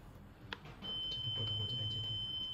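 A handheld optical fiber talk set emits a calling tone, a thin steady high-pitched beep that begins after a faint click and holds at low level.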